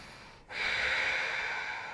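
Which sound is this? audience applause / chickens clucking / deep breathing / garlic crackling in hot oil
deep breathing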